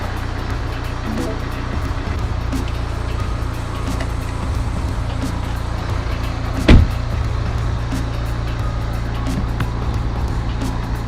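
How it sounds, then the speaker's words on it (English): A Mini Countryman Cooper SD ALL4 sits idling with its engine running and cabin fans blowing, a steady low hum and whoosh throughout, broken by one brief sharp click or knock midway. "So you've got to have the engine running and the fans going."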